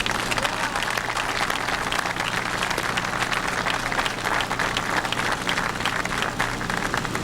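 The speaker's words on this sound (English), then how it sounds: "I want you to welcome and acknowledge Dave with a big round of applause" An audience gives sustained applause to a mine rescue official during Pennsylvania mine rescue coverage. Many hands clap densely and continuously for several seconds, loud and even, with a faint murmur of crowd voices beneath.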